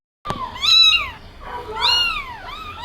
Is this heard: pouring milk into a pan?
no